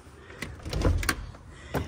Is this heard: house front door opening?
yes